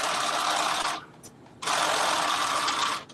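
A sewing machine runs a 5/8-inch seam on a tunic in two bursts of rapid, steady stitching, close and loud, with a brief pause between runs and no talking.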